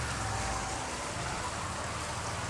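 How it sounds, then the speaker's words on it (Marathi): The season's first rain falls steadily outside a village home in Maharashtra, an even broadband patter that fills the whole moment without pause. "आमची इथं पडला पहिला पाऊस"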